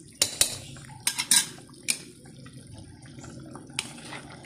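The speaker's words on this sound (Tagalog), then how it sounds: "Haluin lang natin" Spoon scraping and clinking in a pot of sinigang soup, a handful of sharp metallic knocks early on and then softer stirring and liquid sloshing, fairly close and with no voices.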